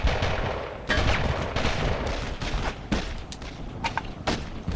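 Sustained gunfire in the World War II shooter Brothers in Arms: a dense barrage of overlapping rifle and machine-gun bursts with heavy thumps, loud and continuous, with no voices over it.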